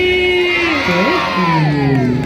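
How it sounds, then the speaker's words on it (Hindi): An audience at a stage show, led by an emcee at a devotional Ganesh program, cheers and whoops loudly together; close, continuous shouting voices rise and fall throughout. "एक बार जोरदार ताली हो जाए गजानन स्वामी के नाम से"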